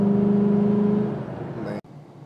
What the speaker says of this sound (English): I'm test driving the car.